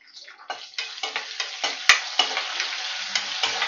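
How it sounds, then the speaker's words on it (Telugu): Garlic hitting hot oil in a pan, a steady bright sizzle with scraping stir strokes in a loose rhythm, close up and without speech. "వెల్లుల్లిపాయలు వేస్తున్నాను. బాగా ఫ్రై అవ్వాలి"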